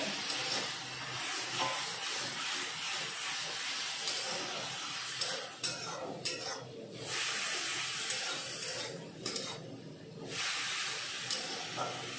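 Tomatoes cooking in a pot with added water give off a steady, close hiss and sizzle that runs throughout, with brief dips and bursts as the steam and bubbling shift.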